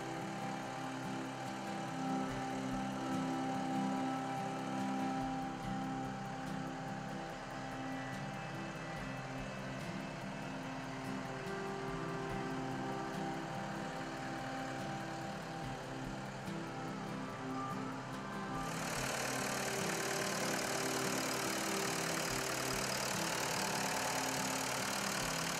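A 2005 Gehl 680 wheel loader with about 2,800 hours and a heated cab idling steadily, a continuous low diesel drone with a faint rhythmic knock, close by and unchanging throughout, with no talking.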